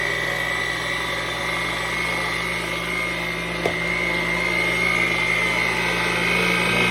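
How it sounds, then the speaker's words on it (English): Heavy duty meat grinder running on low, a constant electric motor whine with a steady hum, close and even, a single faint tap partway through, no voices. "Check out this heavy duty meat grinder."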